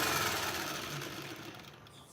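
Sewing machine running while quilting a scrappy Fat Quarter flowers quilt, a continuous close mechanical whir that fades slightly toward the end.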